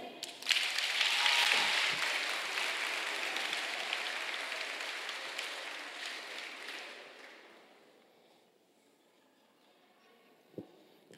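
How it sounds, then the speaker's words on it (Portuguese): A church audience at a preaching event applauds in a dense, sustained wash of clapping that holds steady for several seconds, then fades out to near silence, leaving one faint thump near the end. "Quem está entendendo pode aplaudir."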